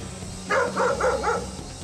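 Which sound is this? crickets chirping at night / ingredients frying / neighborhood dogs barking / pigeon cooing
neighborhood dogs barking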